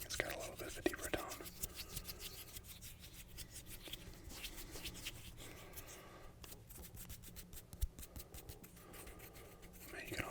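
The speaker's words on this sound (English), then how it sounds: "this is kind of like more of a deep toned rubbing" Hands rubbing together in a close, deep-toned rub, a continuous soft rasping with repeated strokes and scratchy textures, quiet throughout and recorded very near.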